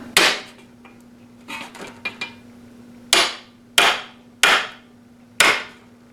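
Sharp, separate hammer blows strike a Schwinn Racer bicycle chain guard lying on cardboard over a wood block. Six or so ringing metallic hits come at uneven intervals with softer taps between them, close by, alongside a faint steady hum.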